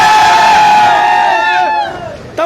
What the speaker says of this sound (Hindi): पूरी की पूरी जो भीड़ है उन्हीं चीज़ों को लेकर के यहाँ पे आक्रोशित है